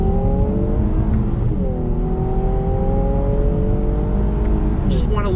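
A 2019 Infiniti Q60 Red Sport 400 pulls hard under throttle, its engine note climbing in rising sweeps as the revs build, heard from inside the car with a loud, continuous drone and a shift around two seconds in.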